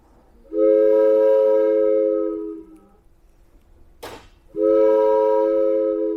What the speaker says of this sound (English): our adult train whistle